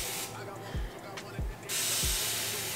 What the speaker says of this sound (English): So I'm gonna keep spraying just a little bit more.